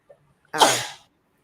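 A single sharp sneeze, close and fairly loud, preceded by a brief faint intake, then quiet.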